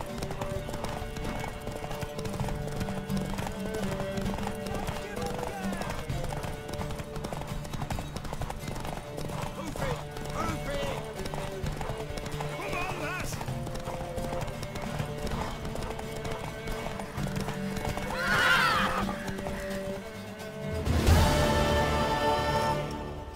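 Rhythmic hoofbeats of a horse galloping in The Witcher 3 continue throughout over a musical backdrop, followed near the end by a loud horse neigh.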